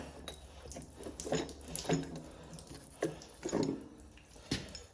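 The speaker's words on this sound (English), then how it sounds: "gotta love an engine dumping all its water on the floor" Irregular drips and splashes of engine coolant from a Chevy 350 small-block hitting a hard floor, several close wet patters spaced unevenly over a low background hum.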